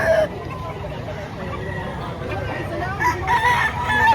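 A rooster crows amid busy market chatter in Lipa, Batangas, Philippines, with crowd babble and background noise running throughout.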